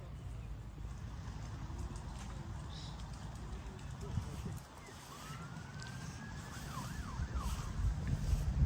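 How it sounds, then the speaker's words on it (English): A faint emergency vehicle siren wails in the distance, its rising and falling tone drifting over low traffic rumble on a quiet residential street near tennis courts. "Siren in the background"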